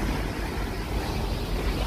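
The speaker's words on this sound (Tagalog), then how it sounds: "Talansik ng dagat. Ayan, marinig natin." Steady rushing water and wind noise of sea waves washing against a moving passenger boat, continuous and moderately loud with no voices.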